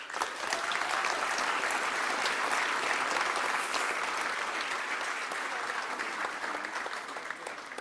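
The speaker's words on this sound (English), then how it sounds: "Round of applause for these students." A graduating class of Year 12 students at a college ceremony receives steady, dense applause from a large audience, sustained and fairly even for several seconds before easing slightly.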